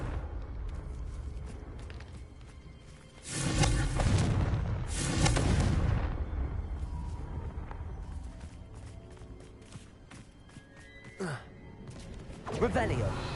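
Confringo fire spell explosions in Hogwarts Legacy, two heavy booming blasts in quick succession followed by rumbling combat noise and later sharper impacts, with speech heard among them.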